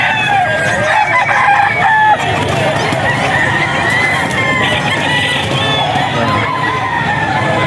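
A young rooster crows loudly and close at a busy pet market, with hens clucking and crowd noise around it.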